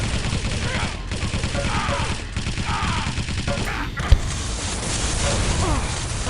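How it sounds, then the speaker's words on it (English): A shotgun fires in a Quake Live team deathmatch, its blasts buried in a constant clatter of weapon fire and pops, with one sharp crack standing out; commentators talk over the action. "He seemed to shoot a shotgun, did no damage despite being completely on the target."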